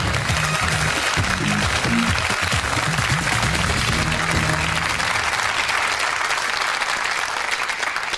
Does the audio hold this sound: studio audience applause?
yes